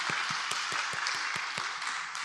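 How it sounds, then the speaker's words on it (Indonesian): A church congregation applauds children from a Christian elementary school during a Sunday Lent service, with steady dense clapping throughout and some rhythmic claps standing out above the crowd noise. "kita beri tepuk tangan untuk mereka."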